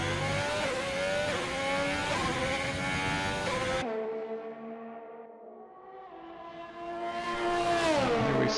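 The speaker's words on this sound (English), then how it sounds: "Here we see that Ferrari coming down into that hard braking zone." A Ferrari race car in a racing video game brakes hard downhill into a braking zone at Azerbaijan, its high engine whine dropping sharply in pitch, fading, then rising again as it revs back up.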